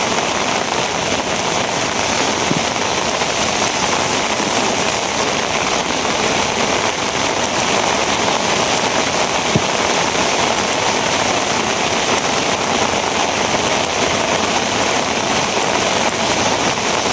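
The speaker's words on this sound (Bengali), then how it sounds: "প্রচুর বৃষ্টি।" Heavy rain pours down outdoors with a constant, loud, even hiss of drops on surfaces, joined by a faint low engine-like hum.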